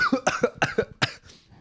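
A run of five sharp coughs in quick succession, close to the microphone and loud, followed by a short breathy exhale.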